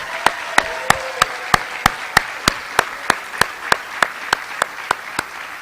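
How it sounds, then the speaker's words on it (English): Steady rhythmic clapping, evenly spaced sharp claps over a low background murmur, like a crowd applauding together at a high school fall sports awards event. "let's give them one more round of applause."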